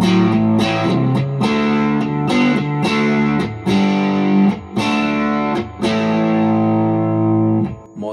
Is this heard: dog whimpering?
no